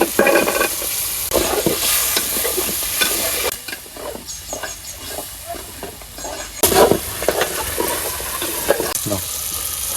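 Jackfruit seeds are stir-fried in oil and spice masala, with a steady sizzle under close scraping and stirring that pauses briefly and then resumes.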